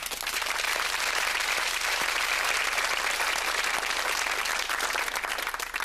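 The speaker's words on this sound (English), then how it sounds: "Round of applause for these two" Studio audience of a TV word-game show breaking into warm, continuous applause, a full, even patter of many hands that holds steady for several seconds.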